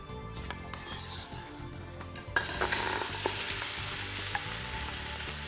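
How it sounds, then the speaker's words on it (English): Chicken pieces for a curry sizzle and crackle in hot oil in a pot, the frying hiss swelling louder partway through, with occasional clinks and stirring scrapes. "turn on the heat to fry off our chicken"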